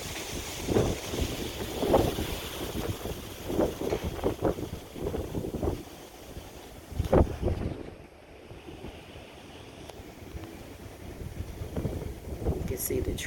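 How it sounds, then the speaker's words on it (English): Strong, gusty Santa Ana winds sweep through trees in California, roaring and buffeting the microphone in rising and falling surges, with a brief lull before another gust builds. "having big gusty winds here in California"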